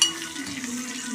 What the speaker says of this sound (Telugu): కరివేపాకు, ఇంగువ వేసాను. వేసి తాలింపు పెట్టుకోవాలి.